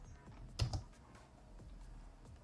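Computer keyboard keys are pressed while working in Blender, giving a few soft scattered clicks, with one louder double tap near the start.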